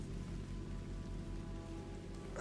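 Rain falling steadily in the video game Red Dead Redemption 2, a constant close patter with a low hum underneath and no voices.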